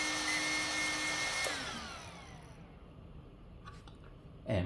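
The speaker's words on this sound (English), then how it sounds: "the sound that you hear is right here. There's 1, 2, 3 fans running to cool everything" Three cooling fans on a scale-model Kobelco SK500 LC excavator whirr together with a thin tonal whine, then spin down and fade into near silence, with a brief clunk at the very end.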